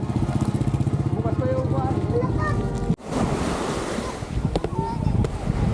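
Surf washing onto the shore in a steady roar, with wind buffeting the microphone and a pause partway through before the waves continue.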